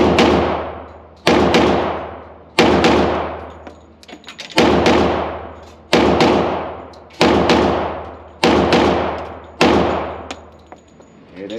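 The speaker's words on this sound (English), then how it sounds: "let's try a couple double taps" Pairs of sharp, loud pistol shots from a Glock 40 Gen 4 MOS ring out at an outdoor range, each double tap followed by a decaying echo, repeated about seven times at a steady pace.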